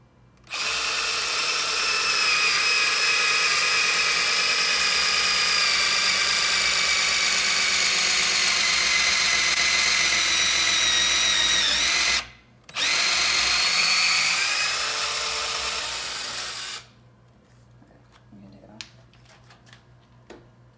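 Power drill boring a hole through a clamped wooden jig, a loud, steady whine held for about twelve seconds, a brief stop, then a few more seconds of drilling before it cuts out; no talking.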